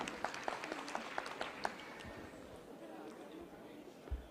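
Audience applause at a Telangana Marriage Bureau Mediators Welfare Association awards event: a burst of scattered, fairly close hand claps in the first second and a half, fading into a murmuring hall with voices underneath.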